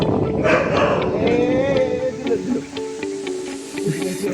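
A dog yips and whines at close range in a narrow alley at midnight, its voice rising and falling in sharp pitched bursts, with a person talking over it.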